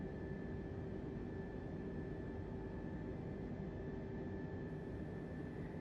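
An Airbus A320 in Microsoft Flight Simulator gives a constant, even cabin drone of engine roar and airflow with faint steady tones, unchanging throughout and without voices.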